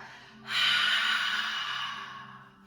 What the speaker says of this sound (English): you make this big ha sound on your exhale breath